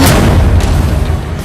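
A Chinese military missile launch from Pingtan in Fujian province, within the DF-15B, DF-21, DF-26 and DF-17 firings: a loud, deep, rumbling boom fills the whole moment and slowly fades, heard alone without talk.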